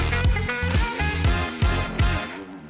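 A Fantic motocross bike in the MX Bikes racing game, held on the throttle, its engine a steady buzzing drone that dips and climbs back in quick repeated revs, close and alone before cutting off at the end.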